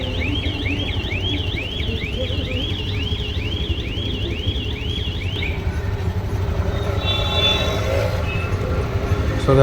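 A metro train at a station platform: a run of about a dozen quick, evenly spaced electronic chirping tones, then a low rumble of the train that grows louder toward the end.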